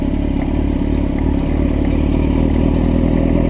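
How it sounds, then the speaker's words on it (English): Motorcycle in first gear with the clutch slowly let out under throttle, a close, steady low engine rumble with rattling mechanical clatter, no talking. "You're gonna slowly let off the clutch while giving it some throttle."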